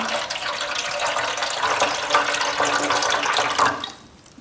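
Water pours steadily into a container close by, a loud continuous gushing that cuts off near the end, as orchids are set to soak in a watering solution.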